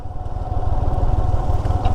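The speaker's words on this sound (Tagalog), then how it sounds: "Kapag inoff ko tong motor na to" A motorcycle engine idles steadily on a mountain road in Atok, Benguet, a close, even low throb with a mild mid-range buzz, running alone without voices.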